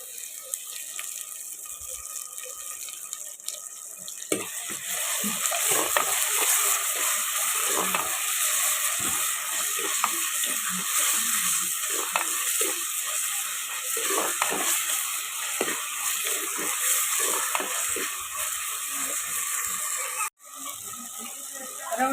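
Curry leaves sautéing in a pan for a country chicken gravy, a loud, continuous crackling sizzle that starts after a few quiet seconds, with scattered stirring clicks and a brief cut near the end, with no talking.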